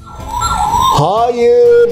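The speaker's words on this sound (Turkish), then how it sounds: "Hey, bu bir ambulans." A toy ambulance's wailing siren swoops up and down, thin and toy-like, while a voice speaks over it.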